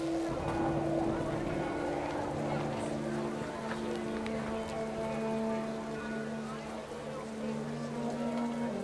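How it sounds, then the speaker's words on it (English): Steady heavy rain hisses continuously throughout in the video game What Remains of Edith Finch, with a low sustained musical drone underneath and faint voices. "Rain came down in buckets then,"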